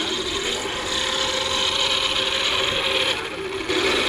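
Freshly installed gears grinding inside a custom Traxxas X-Maxx RC car, a steady, harsh mechanical whir with a ratcheting rasp that runs continuously and loud throughout, briefly dipping near the end.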